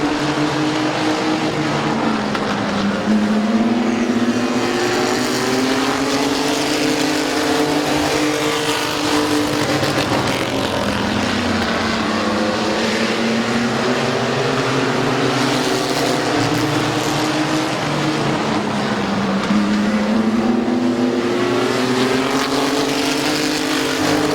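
Race trucks at Midvale Speedway roar around the oval as a steady, loud engine drone, pitch rising and falling in sweeping waves as the pack accelerates through the turns.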